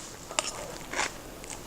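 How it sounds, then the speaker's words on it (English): A big bite into a crunchy vegan detox salad dressed with tahini lemon dressing, giving two short crisp crunches close to the microphone, with no talking. "I'm going to take a nice big bite of this detox salad with tahini lemon dressing."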